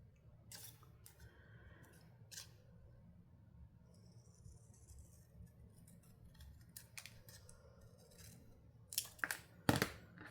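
Scissors snip through a paper booklet in quiet, separate cuts, several soft snips early on, then a sharper flurry of close, crisp cuts near the end.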